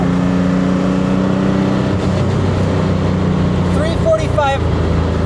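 A Buick Grand National with a shop-built engine drones steadily while driving, loud and continuous, with a voice talking over it and a brief whine near the end.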